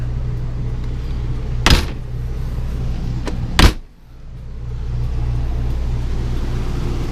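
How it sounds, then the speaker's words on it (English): The door of a 2012 Coachmen Mirada 32DS motorhome shuts with two sharp, loud thumps about two seconds apart, over a steady low hum from the vehicle. "We're closing the door."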